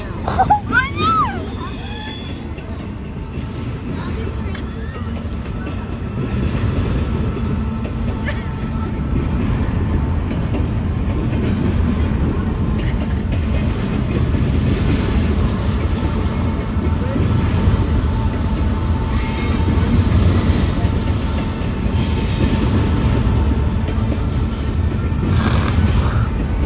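Freight train passing close by on CSX tracks, a steady loud low rumble and rolling clatter that holds for nearly half a minute, with a brief higher squeal at the start.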